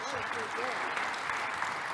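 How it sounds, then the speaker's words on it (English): Quiet applause from a graduation ceremony audience, a soft continuous patter of clapping under a speaking voice. "That one deserves an applause"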